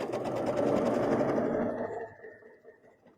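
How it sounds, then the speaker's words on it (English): A sewing machine stitches two fabric pieces placed right sides together, running in a rapid, even mechanical chatter for about two seconds before winding down and fading. "we're going to put these right sides together and we're going to stitch along here"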